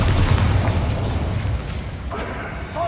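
A Bombarda spell exploding in the Hogwarts Legacy video game, a heavy booming blast that rumbles and fades over a couple of seconds, followed by faint rattling debris.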